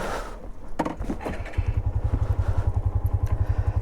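A KTM Duke 390 gen 3 motorcycle engine close by, turning over and then settling into a rapid, even, thumping idle pulse. Some brief clatter comes just before it.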